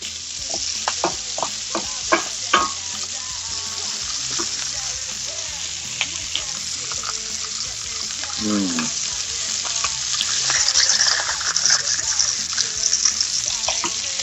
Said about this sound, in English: my garlic is going to flavor the oil here. Make sure all sides are browned.